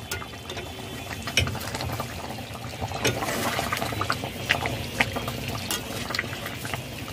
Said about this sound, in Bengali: আরও একবার নাড়িয়ে দিলাম, নিচে মশলা বসে যাবে।